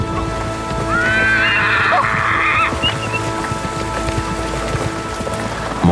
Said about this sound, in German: Mongolische Pferde gelten als extrem robust und sind das ganze Jahr freilaufend unterwegs.